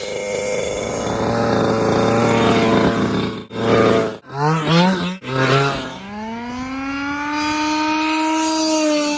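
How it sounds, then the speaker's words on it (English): A Losi 5IVE-T 2.0 RC truck's small two-stroke engine screams loudly, its pitch rising and falling through several revs and blips before climbing into a long high-pitched wail. "The sound of a two-stroke engine is just noise, unless it's yours."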